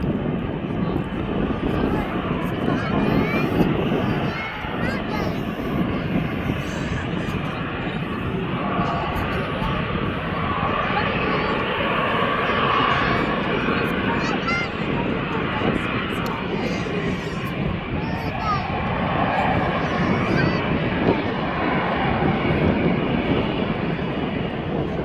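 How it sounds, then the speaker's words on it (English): A Wizz Air airliner rolls onto the runway at Birmingham Airport, its jet engines giving a steady, loud, continuous roar and whine that holds for the whole stretch at a moderate distance. "So Wiz is coming on to the runway now"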